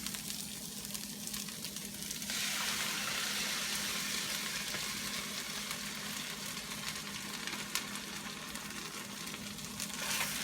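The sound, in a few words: cooking sauce added to vegan lettuce wrap filling, sizzling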